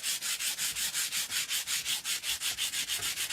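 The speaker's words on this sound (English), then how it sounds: "We're going to go back to our backer piece and give it a sand." Sandpaper is rubbed back and forth over a wooden backer piece for a mistletoe sign, making a steady, rhythmic scratchy swish of about a dozen even strokes, close and alone.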